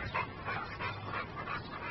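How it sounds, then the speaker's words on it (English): Dogs make soft whimpering and yipping noises in short bursts, fairly close, with no talking. "Very, very nice dogs."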